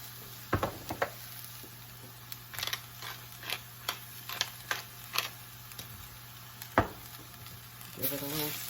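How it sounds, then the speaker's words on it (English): Vegetables for a frittata, seasoned with salt and pepper, sizzle in a pan as they are stirred, with a steady soft frying hiss broken by scattered scrapes and clicks of the spoon against the pan. "Give it a little stir."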